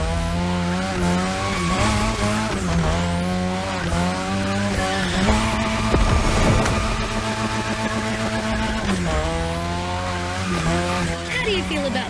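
A modded Mazda RX-7 drifts in The Crew Motorfest racing game, its engine note rising and falling steadily with shifting revs and a tyre squeal mixed in, loud and continuous under background music.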